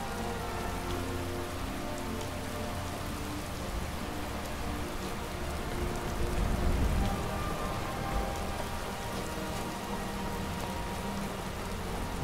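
In the video game Skyrim, rain pours over a high, snow-covered mountain area in a continuous hiss and patter, swelling slightly near the middle before settling back to an even wash, with no talking.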